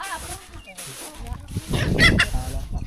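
Chickens cluck and squawk around a traditional Lao village, several calls rising midway over a background of voices talking.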